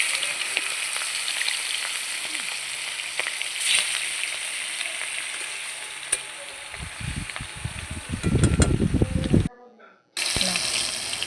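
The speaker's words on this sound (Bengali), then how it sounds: "এদিকে কড়ার তেল গরম হয়ে গেলে মাছগুলো নুন হলুদ মাখিয়ে ভেজে নেব।" Salt-and-turmeric-coated hilsa fish fry in hot oil in a wok, a continuous bright sizzle with a rougher, rumbling patch near the end before a brief drop-out, heard close with no clear talk.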